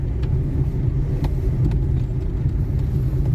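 A car coasts downhill on a mountain road between Nainital and Lucknow with the driver's foot off the accelerator, giving a steady close low rumble of engine and tyres without revving.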